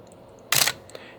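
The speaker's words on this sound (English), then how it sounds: "What single shot means is that you push the shutter button down" A Nikon F5 film camera fires its shutter once in single-shot mode, giving one crisp, loud mechanical clack close to the microphone against a quiet background.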